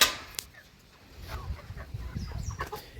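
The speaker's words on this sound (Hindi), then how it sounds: "लगभग 250 मुर्गियाँ हैं और ये इनका मुर्गियों का शेड है" About 250 chickens housed in a shade-net poultry shed, with soft clucks and scattered calls at low level over faint rustling.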